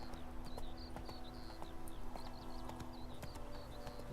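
Rhythmic clip-clop of a horse moving along a trail in The Witcher 3, steady hoofbeats repeating throughout under a faint background of chirping bird calls.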